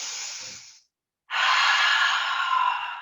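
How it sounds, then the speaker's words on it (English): A long, breathy exhale through the mouth during a yoga class, following a softer breath and a brief pause; the out-breath is close, steady and loud, with no talking. "The out breath through the mouth is always there for you if you need it,"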